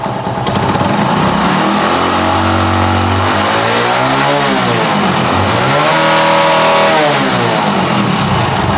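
A small engine runs loud and close, its revs swelling up and falling back twice as the throttle is opened and released, with a rough, buzzy note throughout.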